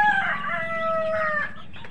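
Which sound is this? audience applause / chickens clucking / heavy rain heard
chickens clucking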